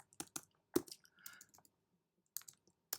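Typing a command on a computer keyboard, sparse close clicks in small bursts separated by silence, quiet and without talk.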